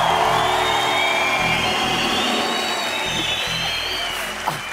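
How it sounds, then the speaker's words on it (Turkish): Studio audience applauding and cheering on a Turkish comedy talk show during a painting challenge, a dense steady roar of clapping with whoops that slowly fades near the end. "Benim resmi alkışlayanlar."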